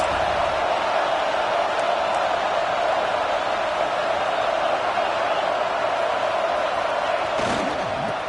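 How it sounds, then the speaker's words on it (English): A packed stadium crowd roars steadily at a college football game between Washington and Notre Dame, a dense, sustained wall of cheering with no break. "Listen to this crowd just shaking the girders of this place"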